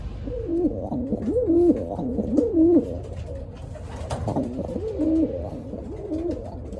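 Several pigeons coo inside a wooden pigeon loft, their soft rolling calls overlapping close by in a continuous chorus with no talking.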